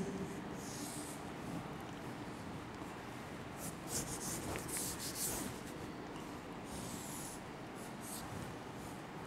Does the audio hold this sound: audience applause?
no